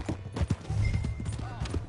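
Horse hooves clip-clop steadily in the Red Dead Redemption 2 video game, a moderately close rhythmic trot under voices talking over the scene.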